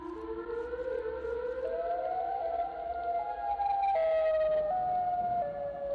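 A video-game Siren Head monster wails with a rising, sliding siren tone that climbs in steps and holds loud and steady, alone with no talk.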